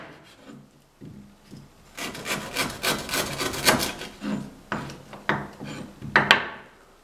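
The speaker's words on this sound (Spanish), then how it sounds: "Ahora sí ya la cañita se puede parar y vamos a partirla de la siguiente manera" Peeled sugarcane stalks are cut into pieces for a Christmas fruit punch, giving a series of close, crunchy, fibrous cuts and scrapes in irregular bursts, loudest in the middle.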